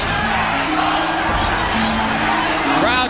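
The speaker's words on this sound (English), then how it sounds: "Crowd chanting Mexico," Boxing arena crowd at the 1990 Julio César Chávez versus Meldrick Taylor fight, a loud dense roar with a rhythmic chant rising and falling, continuous and near throughout.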